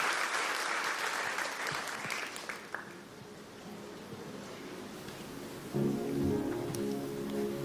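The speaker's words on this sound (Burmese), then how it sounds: "အော်လက်ခုပ်တီးတဲ့ကျေးဇူးကြားရအောင်" Applause from a church congregation, a dense wash of clapping that fades after a few seconds before a tonal musical sound comes in.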